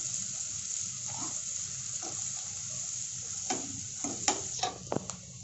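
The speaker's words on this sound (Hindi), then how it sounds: "इसमें प्याज डाल देंगे। अब इनको प्याज को एकदम पूरा ब्राउन होने देंगे।" Onions frying in hot oil with cumin seeds in a pan for a dhaba-style paneer curry, a steady sizzle with several louder crackles and stirring scrapes toward the end.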